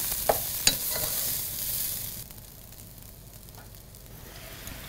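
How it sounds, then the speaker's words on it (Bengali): Rice sizzles and crackles in a pan, with a few sharp clinks of a utensil early on, then a softer steady frying hiss. "চালটা যখন ভাজা ভাজা হয় তখন কিন্তু একটা মানে সাউন্ড হয়"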